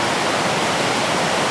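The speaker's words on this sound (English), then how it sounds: "This is where the Casaga River and a little feeder stream join." Where the Casaga River meets a small feeder stream, the water makes a loud, broad, continuous rushing roar close by after a night of heavy rain, with no voices.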